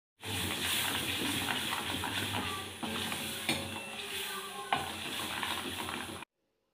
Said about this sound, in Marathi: मी आता भाजीला फोडणी देऊन देते